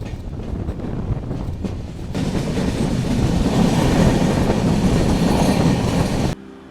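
Passenger train running on rails during a long journey through northeast India toward Nagaland, a steady loud rumble with rolling clatter and wind that builds after two seconds, then cuts off abruptly near the end.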